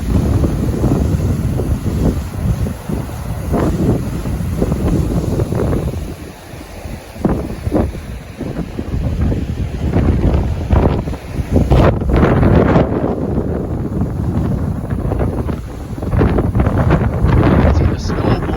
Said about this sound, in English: There's that wind picking up.